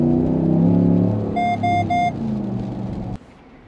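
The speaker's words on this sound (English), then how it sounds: "the Mopar exhaust that also comes on the GT trucks, and it's got a really nice tone to it" A 2022 Ram 1500 G/T pickup with a Mopar exhaust gives a deep, steady idle rumble close by. Three short electronic chime beeps sound partway through, then the rumble cuts off abruptly.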